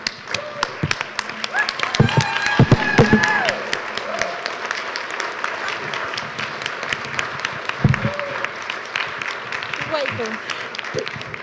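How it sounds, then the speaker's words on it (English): An audience rises and claps in a conference hall, scattered claps building into a moderate round that carries on under a speaker's voice talking over it. "can we rise for just a second and applaud them?"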